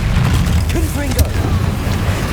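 A Confringo fire spell blast from Hogwarts Legacy lands as a booming burst over dense background rumble and crackle, with some voiced game sound mixed in.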